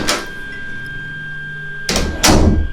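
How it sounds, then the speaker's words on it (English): A bathroom door in an employee restroom opens during a night shift, heard as two close broadband thumps near the end, after a quiet stretch marked by a steady electrical hum and a brief noise burst at the start. "I heard the bathroom door open"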